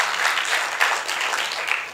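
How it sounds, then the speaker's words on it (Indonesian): A church congregation claps in applause during a Sunday service, a steady, dense wash of many hands filling the room throughout with a few sharper bursts. "Tepuk tangan bagi dia, saudara."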